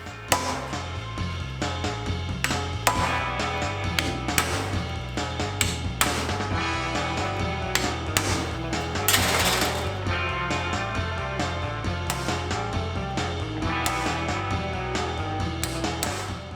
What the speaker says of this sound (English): use the punch with a hammer